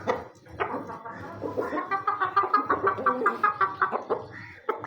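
A hen being held in a hand clucks loudly and close, with a rapid, insistent run of clucks that grows more rhythmic toward the end. No one talks over it.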